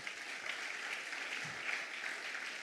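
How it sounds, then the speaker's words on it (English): A church congregation claps together in a steady, even wash of applause that fills the room at moderate distance, with no voices standing out. "Give God a round of applause."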